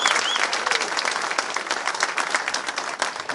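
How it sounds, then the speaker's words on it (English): Steady audience applause fills a hall at a governor's bill-signing event, a continuous wash of many hands clapping at moderate distance with no talk over it. "Let's give him a round of applause"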